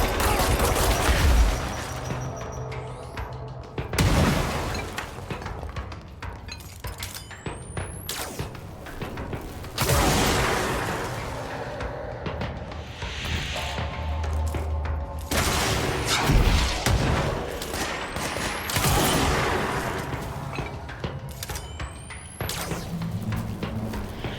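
Gunfire in the video game Control from a weapon that fires on its own after a set delay, with loud bursts of shots and booms recurring across a busy mix of game effects and music.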